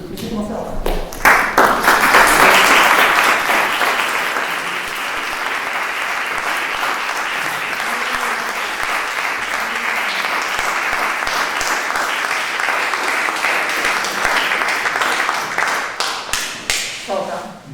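An audience applauds at the close of a lecture on contemporary China, swelling loudly at first, then settling into long, even clapping that fades into scattered claps.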